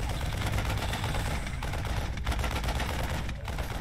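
Dense, sustained gunfire in a ranked online strategy match, aimed at a flying overlord unit: rapid continuous bursts of automatic fire, loud and close, with no talk over it.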